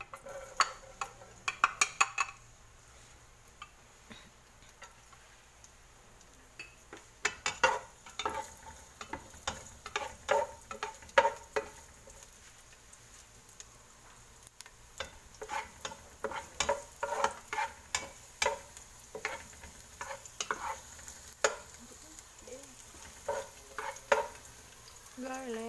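Garlic frying in oil in a pan for pork dinuguan, a low steady sizzle broken by frequent irregular clicks and scrapes of stirring, close and fairly quiet with no talk.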